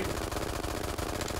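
Rapid gunfire in the VR game Hot Dogs Horseshoes & Hand Grenades, a steady, fast stream of shots at moderate loudness for about a second and a half.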